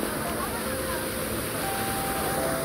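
A monsoon waterfall at Malshej Ghat pours with a continuous, even broadband rush that fills the whole moment without pause.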